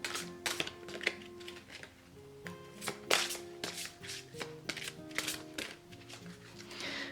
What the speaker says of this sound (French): Je m'entraîne à faire le mélange en mode poker.